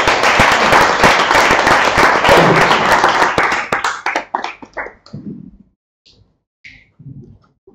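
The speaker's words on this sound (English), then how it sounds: "Give a big round of applause for Louis." Audience applause after a talk at a Ruby programming meetup, a dense burst of clapping for about four seconds that thins into scattered claps and fades out.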